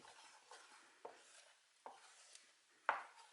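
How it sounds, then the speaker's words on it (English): A spoon stirs squash soup with melting butter in a pot on the stove: quiet, close scraping strokes, with four sharper knocks against the pot spaced about a second apart. "And give that a stir."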